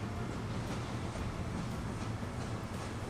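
Steady train rumble from a railway in the transport-management game Transport Fever 2, a continuous low running noise with faint clatter throughout, no talk.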